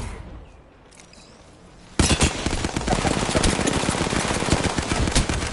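Sustained automatic gunfire from the video game Apex Legends erupts suddenly after a quiet lead-in, continuing loud and dense as a steady rattling barrage with no talk.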